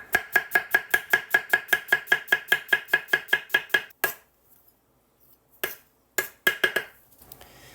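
A knife thinly slices an onion on a cutting board for beef stroganoff, giving a fast, even run of about twenty crisp close taps, then a pause and a few scattered strokes.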